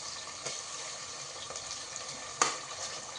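Onions and tomatoes frying in a pan for meat porridge give a soft, steady sizzle with faint stirring clicks and one sharper knock, fairly quiet and without talk.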